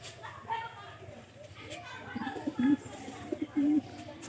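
Pigeons in a home loft give soft, low coos in short bursts, close but quiet beneath someone talking.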